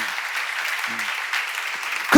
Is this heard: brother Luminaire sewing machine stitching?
no